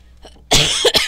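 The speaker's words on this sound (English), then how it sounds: "I'm fighting a cold, so I got a slight cough." A man with a cold gives a couple of sharp, close coughs in quick succession after a brief quiet lead-in.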